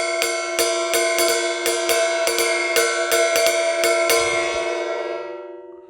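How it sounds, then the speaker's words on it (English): A 20-inch Crest B8 medium ride cymbal from Brazil is struck about a dozen times at an even pace, each bright, pinging hit ringing into the next before the shimmering tone slowly fades away alone. "that cymbal I told you about from Brazil, from a Brazilian brand, Crest, is a B8 medium ride, 20 inches."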